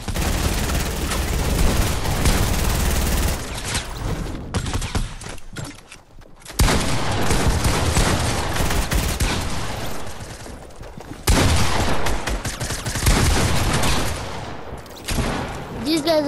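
Rapid bursts of video game gunfire, loud volleys of shots broken by short pauses and a quieter lull partway through.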